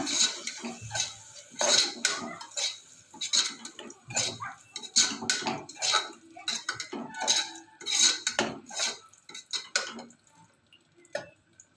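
A spoon stirring curd into a kushka mixture in a pot, with close, repeated clinks and scrapes of metal against the pan and soft wet squelches in an irregular rhythm.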